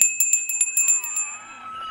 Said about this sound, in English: we need the bell